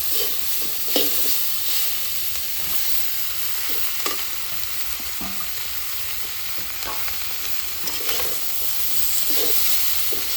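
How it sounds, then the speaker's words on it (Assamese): Pork sizzling in a kadai with tomatoes and banana flower being added, a loud continuous frying hiss broken by repeated scraping stirs of a spoon against the pan, with no voices. "এফালে পুৰা মাংস ভাজি আছে, এতিয়া দিব এতিয়া বিলাহী দিয়ক"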